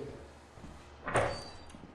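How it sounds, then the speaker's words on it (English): A door closing in a horror video game, heard as one soft thud-and-swish about midway through, fairly quiet against a faint ambient hum, with no talk. "I closed the door."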